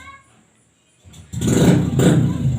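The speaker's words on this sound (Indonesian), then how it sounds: "ada suara knalpot motor yang terlalu keras" After a near-silent moment, a motorcycle with an overly loud exhaust roars up outside and revs twice, its rough exhaust filling the space close by.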